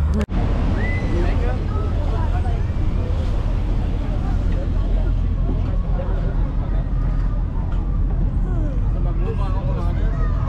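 Steady broadband wash of water and wind noise from a boat cruising on a river in Paris, with a constant low engine rumble and indistinct voices mixed in throughout.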